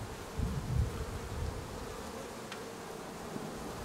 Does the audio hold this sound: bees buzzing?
yes